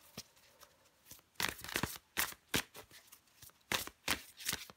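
Tarot cards shuffled in the hands, a fast run of crisp riffling bursts and slaps that come close and loud after a quiet opening, with no voices.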